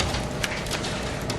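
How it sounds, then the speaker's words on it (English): Freezing rain falling outdoors in winter, a continuous broadband hiss and patter with a few sharper ticks of ice pellets striking surfaces, fairly loud and steady. "Just listen to that freezing rain."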